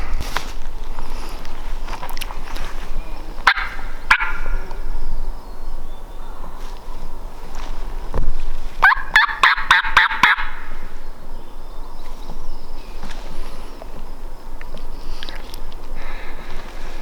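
A wild turkey gobbles in Oregon elk country, two short bursts of rapid gobbling a few seconds apart, moderately distant over quiet outdoor ambience with faint footsteps.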